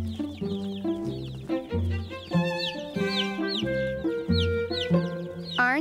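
Little chicks in a cartoon cluck and peep in a busy, rhythmic chorus, loud and close, along with some squeaky chirps, with no voices over them.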